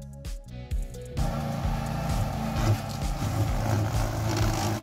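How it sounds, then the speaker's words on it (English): A 26 HP gasoline hydrostatic lawn tractor engine runs steadily nearby after a few short bursts, with a continuous droning hum and mechanical rattle throughout. "This hydrostatic lawn tractor has a 26 HP engine and has a 110 centimeters cutting width."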